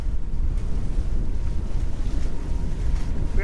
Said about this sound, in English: 25 knots of wind all of a sudden.